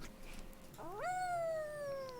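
A cat meows in the Fairytale Fables auto-battler game, one drawn-out rising then slowly falling meow, clear and close, following quieter background game sounds.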